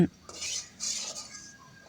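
Metal utensil scraping and stirring oil in a wok, a few short clattering strokes close by, with faint background sounds.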